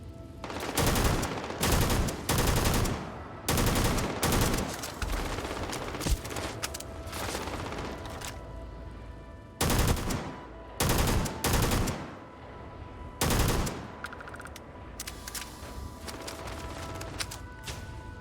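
An automatic gun in the video game Starfield fires in loud, rapid bursts of a second or two, separated by short pauses, with a steady hum of the game in the background.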